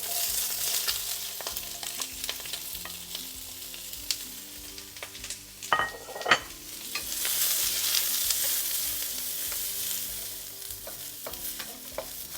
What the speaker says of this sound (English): Give it a good swirl, and then toss in the vegetables.